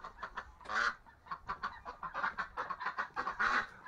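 Ducks on a farm give a close, busy stream of honking calls, several birds overlapping in quick bursts with no pauses.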